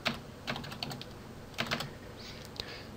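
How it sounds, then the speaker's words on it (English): Typing on a computer keyboard, a quick irregular patter of close, crisp key clicks in short bursts with small pauses. "We're going to type in Orioles."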